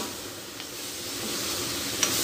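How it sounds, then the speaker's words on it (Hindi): Okra (bhindi) frying in a pan, a faint steady sizzle with soft stirring scrapes and a couple of brief clinks, no voices. "अब डाल देते हैं भिंडी डाल गई मिक्स कर देते हैं"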